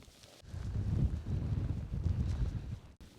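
Blustery wind at a campsite buffets the microphone in low, rumbling gusts that rise and fall for a few seconds.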